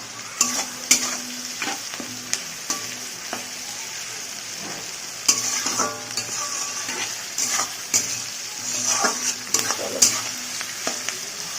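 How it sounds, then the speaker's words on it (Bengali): Chopped onions sizzling in hot oil with bay leaf and a pinch of sugar, a steady close frying hiss broken by repeated scraping and stirring clinks of a spatula in the pan. "চলো পেঁয়াজটা একটু লাল লাল করে ভেজে নিই"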